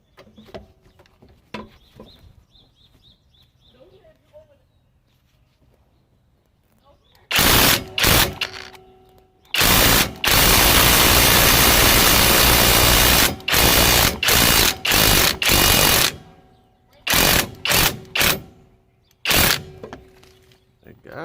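Kobalt 24V right-angle impact wrench hammering on a stubborn nut, loud rattling bursts of impacts in several long and short runs, with quiet pauses between.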